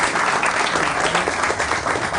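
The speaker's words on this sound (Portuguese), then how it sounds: "Por favor, uma salva de palmas para Ana Moser." Audience applause welcoming former athlete Ana Moser at a teacher-education event, dense continuous clapping from a crowd, fairly loud and close throughout with no speech over it.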